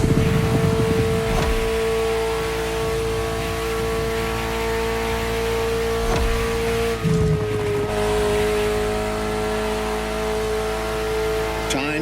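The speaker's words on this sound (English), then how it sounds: "The Ferrari F40, second vehicle of the manufacturer to earn the prestigious supercar status, and a car that has shaken the motorsports industry to its core." Ferrari F40 supercar in The Crew Motorfest: a loud, close engine holding a steady high drone, with a brief shift-like dip midway before the note picks up again, tyres faintly squealing underneath.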